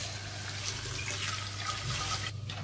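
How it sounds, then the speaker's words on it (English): Cold tap water pouring steadily from a kitchen faucet over freshly drained spaghetti in a sink, a loud, continuous rushing wash that cuts off abruptly near the end, with no talking. "We just run it with the cold water."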